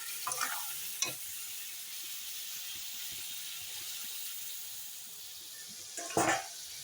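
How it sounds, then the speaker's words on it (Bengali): Spice masala is stir-fried with a little added water for a brinjal curry, giving a soft, low sizzle with a few spoon scrapes near the start and a louder stirring burst near the end. "এখন আরও নেড়ে চেড়ে কষিয়ে নেব আর কষানোর জন্য আমি অল্প জল দিয়ে দেবো"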